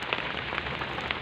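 Heavy rain pours steadily on surfaces during a stormy power outage, a constant close hiss with scattered louder drop impacts and no voices.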